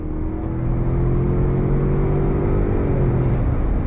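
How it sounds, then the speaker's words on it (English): A 2022 Ford Expedition Timberline with its twin-turbo EcoBoost V6 and 10-speed automatic accelerating hard from a throttle press, a close, loud engine drone with rising tones climbing steadily and then levelling out. "with that 10 speed, let's see how acceleration is. Our throttle drops down and we are off."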